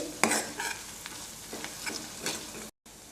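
Spices, turmeric and rock salt are stirred into a hot pan, a light sizzle broken by several sharp spatula scrapes and taps, close and fairly quiet, ending in a brief cut to silence.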